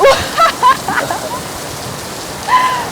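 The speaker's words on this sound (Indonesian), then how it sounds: "hujannya mantep banget" Heavy rain pouring during typhoon season in Japan, a steady dense hiss throughout, with brief tonal sounds and voices rising over it near the start and end.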